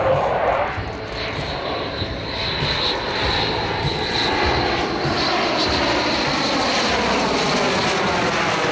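An F-16 fighter jet in gray paint flies past at an air show, its loud, steady engine roar sustained throughout with no pauses.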